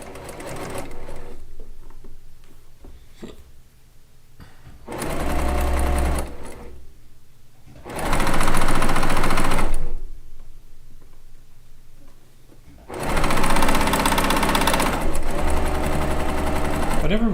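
A sewing machine with a low bobbin runs in loud bursts that start, stop and restart, with a steady mechanical whir and softer quiet stretches between runs.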